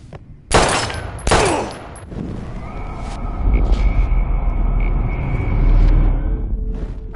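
Gunfire in the video game Life is Strange: two sharp, loud shot bursts early on, followed by a rumbling, sustained roar and a steady tonal hum that carry on to the end, with no talking.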